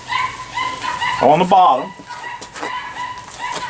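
Dogs, one of them named Fred, bark in a short sharp burst outdoors beside a Dutch oven where an apple cobbler is cooking, heard under and between a person's speech.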